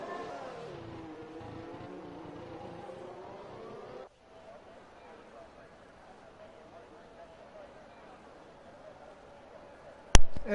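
Race cars in a sim racing game at the Spanish Grand Prix, a droning engine hum that drops away sharply partway through, leaving quiet background noise before a brief sharp burst at the end, under a commentator's voice.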